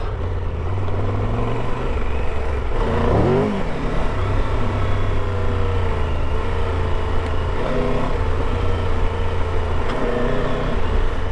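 A 2022 Triumph Tiger 1200 Rally Pro motorcycle rides down a trail on non-knobby tires, its engine a loud, steady close drone with a brief rev swell early on, plus gravelly crunching underneath.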